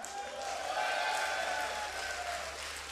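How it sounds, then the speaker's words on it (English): A live crowd at a StarCraft esports tournament in Austin applauds and cheers, a faint, steady wash of clapping heard at a distance for a few seconds. "give a cheer for Liquid Taeja."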